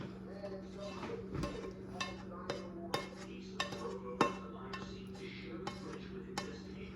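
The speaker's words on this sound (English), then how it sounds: "Take the rest of my Bolognese sauce and we're going to add that to the pasta." Pasta stirred together with Bolognese sauce and Parmesan in a metal pot, with scraping, clinking spoon strokes at an irregular rhythm up close over a steady low hum.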